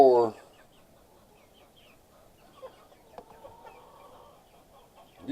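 Newly acquired chickens on a floor: one loud, close cluck opens, followed by long near-quiet with faint scattered clucks and rustles, and another cluck at the very end.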